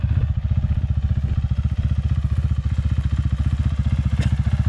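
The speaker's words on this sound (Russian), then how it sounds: "Глуши мотоцикл." A fuel-injected Avantis 250 Pro motorcycle engine idles close by, a steady, loud, low thumping pulse throughout with brief clatter, no talk over it.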